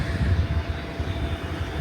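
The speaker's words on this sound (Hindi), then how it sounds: "वो देखो ड्रोन" A drone hovers directly above a home's rooftop, its motors giving off a steady, moderately loud whirring hum with slight fluctuations, heard from below without any talking.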